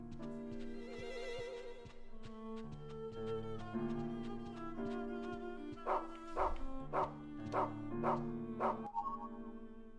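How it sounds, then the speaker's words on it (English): Dog barking in the survival horror video game Rule of Rose, a run of short sharp barks in the latter half of the clip, rising over a steady bed of game music and ambience. "Let's have the dog find and see if he can find anything."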